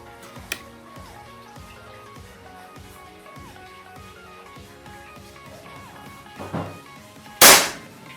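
One sharp shot from a Bocap Predator 500cc PCP air rifle cracks out near the end, loud and abrupt, over a quiet background of soft music and faint ticks.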